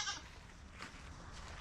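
A goat in an African village gives a short, faint bleat at the start, followed by quiet outdoor background noise.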